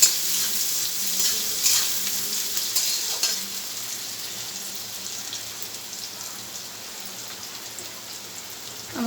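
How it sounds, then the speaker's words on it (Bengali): Chopped onion frying in a pan, a loud, continuous hiss and sizzle close by, with a couple of brief scraping stirs near the start and no talking. "পেঁয়াজটা আমি একটু লাল লাল করে ভেজে নেবো"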